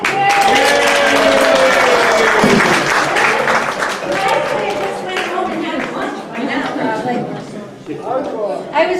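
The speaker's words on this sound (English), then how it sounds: "Everybody clap." A crowd applauds a grand entrance made by golf cart, steady dense clapping mixed with loud cheering and chatter throughout, voices rising over the noise near the end.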